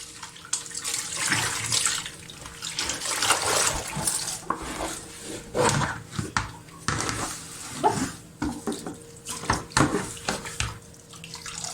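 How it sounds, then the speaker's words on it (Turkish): Dirty water is poured out in a sink and dishes are rinsed: water splashes and pours, with running-tap rushing and clinks of utensils, fairly close and steady with brief pauses. "Şimdi şu kirli suyu döküyorum ve onları duruluyorum."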